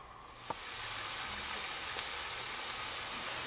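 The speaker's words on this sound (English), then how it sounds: "we're just going to keep stirring this, get these sauteed down until they're soft" Vegetables for shrimp étouffée sauté in a pan with a steady, close sizzle and crackle, plus a couple of brief clinks from stirring, with no talk.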